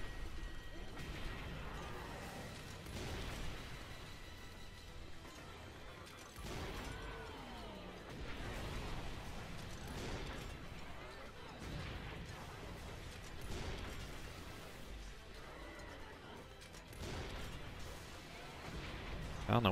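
Repeated gunfire and explosive impacts from Earth Defense Force 5, a third-person shooter against hordes of frog invaders, rattle on continuously at close range alongside game effects while someone talks over the action.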